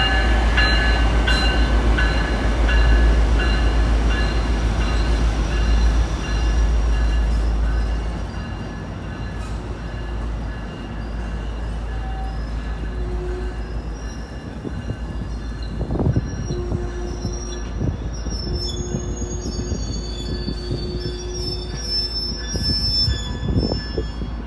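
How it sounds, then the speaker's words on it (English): Amtrak Capital Corridor train 733, led by Siemens Charger locomotives, moves through a crossover at Oakland Jack London Square with a low rumble, while high-pitched wheel squeals sound repeatedly and intermittently, close and loud. "The Amtrak train number 733 now officially on the move again, crossing over on track 2 of Union Pacific now subdivision"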